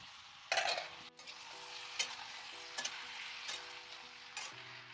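Tomatoes sizzle and fry in a pan for a curry with broad beans, brinjal and spring onions, with a spoon scraping and stirring at intervals and a few light clinks against the pan, close and steady.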